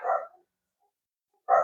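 Dogs bark indoors, two separate loud barks split by a second of quiet, each short and close.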